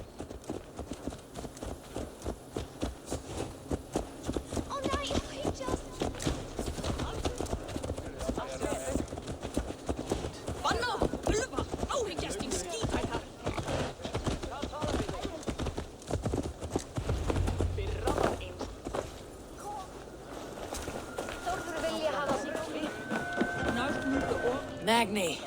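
Horse hooves clip-clop steadily and close in Assassin's Creed Valhalla, a long rhythmic patter running beneath spoken dialogue throughout.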